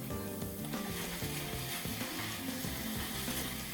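Ground minced beef sizzles and crackles steadily in a hot pan, a continuous close frying hiss with occasional stirring scrapes and faint clinks, as part of a classic Bolognese sauce being cooked.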